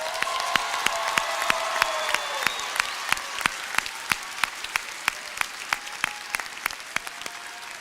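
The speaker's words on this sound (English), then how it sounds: "Can we give our Manor Early College High School 2022 graduates another thunderous round of applause?" An audience applauds 2022 graduates of Manor Early College High School at their graduation ceremony, a sustained round of crowd clapping that thins into a few distinct, sharper individual claps toward the end.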